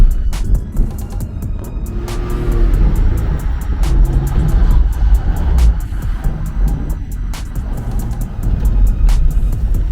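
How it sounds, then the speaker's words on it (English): A convertible Porsche Carrera with the top down cruising past seaside homes in warm weather, a loud steady engine and road rumble mixed with heavy wind buffeting throughout. "We're in a convertible Carrera Porsche."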